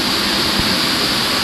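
Edith Falls waterfall roars as a steady, loud, broadband rush of falling water, unbroken and close, with no voices over it.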